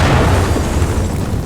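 A loud, sustained boom from an explosion in the video game Teardown, set at a huge mansion villa, with a dense rumbling low-end roar filling the whole moment and no talking over it.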